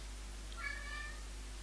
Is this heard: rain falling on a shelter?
no